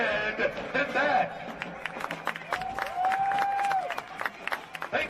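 Football fans at a Clark Atlanta Panthers home game applaud in a steady, moderate wash of clapping and cheering, with a voice talking over the crowd throughout.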